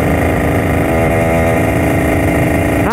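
Motorcycle engine while riding at speed on a road, a loud, steady mid-pitched drone with clear harmonic buzz and slight shifts in revs, close and continuous with no talk.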